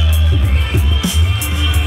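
A big festival crowd at EFOTT 2014 applauds and cheers for a DJ, a dense, loud roar of clapping and voices filling the space steadily throughout.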